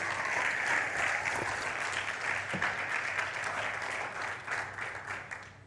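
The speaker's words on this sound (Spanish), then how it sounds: "Dale un aplauso al Señor" A church congregation claps together in sustained, steady applause that fills the room, loud and continuous throughout, with faint scattered voices underneath.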